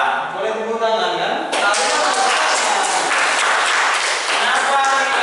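Students in a classroom break into a burst of hand clapping that starts abruptly and continues steadily for several seconds, loud and close, with some voices mixed in.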